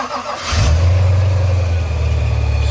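A 1987 Porsche 928 S4 with a manual gearbox and a freshly rebuilt 5-litre V8 cranks and fires, settling straight into a loud, deep, steady rumble close by.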